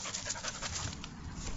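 A puppy pants steadily and close by in a quick, continuous rhythm of breaths, with bright outdoor background noise and no talking.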